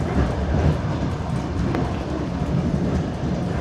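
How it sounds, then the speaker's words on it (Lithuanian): A renovated passenger train rolls along rails between Kaišiadorys and Riga, heard from inside a carriage as a steady loud rumble with faint rhythmic clacking and no talk. "Patinka man šis traukinys"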